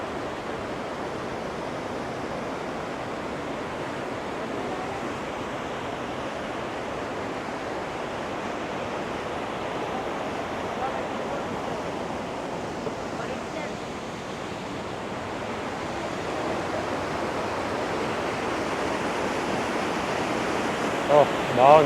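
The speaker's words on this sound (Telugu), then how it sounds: "ఇక్కడ నుండి వాటర్ ఫాల్ సౌండ్ అంత పవర్ఫుల్ ఉంది." A powerful waterfall in Switzerland roars in a steady, dense broadband rush that holds nearly constant for the whole stretch, close and loud, with no pauses or distinct events.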